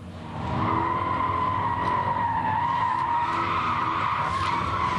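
A sustained, loud tire squeal from a rallycross car skidding under braking, holding a steady screeching pitch for several seconds without pause.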